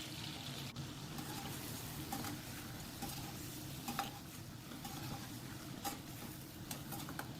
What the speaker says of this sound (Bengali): তেলটা গরম হয়ে গেলে ডিমগুলোকে সামান্য নুন দিয়ে হালকা করে ভেজে উঠিয়ে নিব